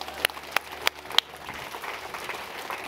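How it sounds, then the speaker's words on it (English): Scattered audience applause for Sir Charlie at a children's book event: four sharp claps stand out at first, then blend into a softer spread of clapping. "So big round of applause for Sir Charlie"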